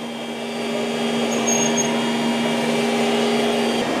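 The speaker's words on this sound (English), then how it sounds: "here's the Roomba going back and forth using that scrubbing action" An iRobot Roomba Combo j7+ robot vacuum drones steadily as it scrubs a floor, a close, even motor whine holding throughout.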